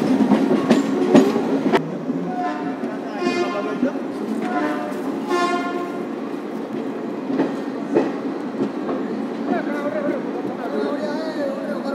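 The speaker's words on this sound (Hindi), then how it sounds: "धीरे धीरे हमारी ट्रेन रेंगते हुए भुवनेश्वर जंक्शन अराइव कर रही है।" Falaknuma Express train slowly arriving at Bhubaneswar Junction, recorded from on board: wheels clacking and squealing, carriage rumble and tonal brake whines, with voices talking throughout.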